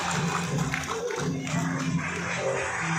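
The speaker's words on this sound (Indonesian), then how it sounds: "kita berikan tepuk tangan yang meriah" Audience applause at a thanksgiving gathering attended by the Aceh governor, a soft, steady patter of many hands spread through a reverberant hall, with some murmuring voices underneath.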